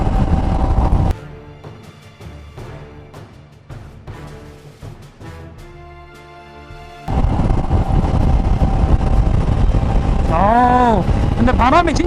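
A 2020 Honda CRF1100L Africa Twin rides on a highway at over 100 km/h, its engine drone and wind noise loud and steady. A rider talks throughout, and a quieter stretch in the middle precedes the roar returning.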